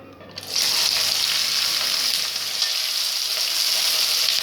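Onions hitting hot oil in a pan for soya chunk (meal maker) curry burst into a loud, steady sizzle after a brief quiet start, a dense hiss that holds evenly to the end.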